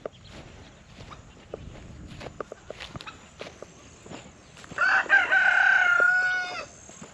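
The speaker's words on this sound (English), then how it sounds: "Oh, roosters." Roosters on a backyard farm crow loudly and close by in one long drawn-out call, preceded by scattered footsteps, clucks and clatter on the ground during chores.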